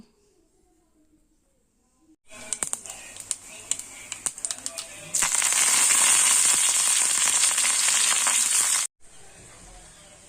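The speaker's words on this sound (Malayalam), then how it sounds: "വാങ്ങി വെച്ച് കടുക് പൊട്ടിക്കുകയാണ് ചെയ്യണത്" Mustard seeds crackling and popping in hot oil in a home kitchen, a dense burst of sharp sputtering pops that swells into a loud continuous sizzle, then cuts off abruptly.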